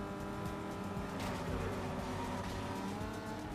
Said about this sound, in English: Let's start off by using our nitrous.